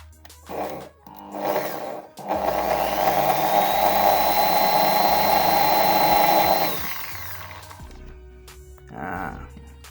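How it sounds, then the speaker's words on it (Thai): A small drill bit bores a pilot hole into a steel car body: two short whirring bursts, then a long, loud, sustained high whine before it winds down and a last brief burst. "ใช้เจ้าดอกเล็กนะครับ ดอกสว่านดอกเล็กเนี่ย"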